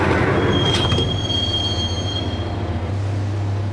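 Train in Max Payne riding the rails toward Roscoe Street Station, a steady low rumble with a brief metallic wheel squeal early on and a thin high whine, loud and constant with no voices.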